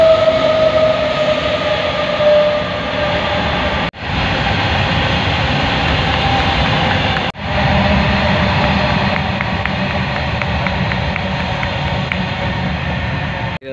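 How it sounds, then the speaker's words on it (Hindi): A train passes at the Kakori memorial site, a loud continuous rumble and rattle of rolling wagons that lasts throughout, broken by a few brief dips as the cars go by. "ट्रेन भी आ रही है"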